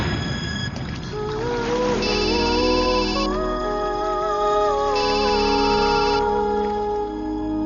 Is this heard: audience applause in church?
no